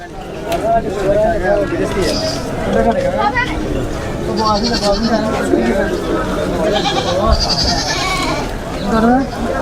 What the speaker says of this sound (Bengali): এটা হচ্ছে ছাগলের বাজার দেখেন এখানে প্রচুর ছাগল উঠছে